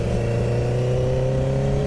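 A 2012 Honda CBR 1000RR motorcycle engine holds a steady, loud rev with a strong low hum and a sustained higher tone that stays even from start to finish, with no voices.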